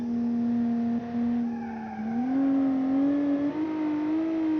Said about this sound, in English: When one of the wheels starts to wheel spin, it really doesn't like going anywhere.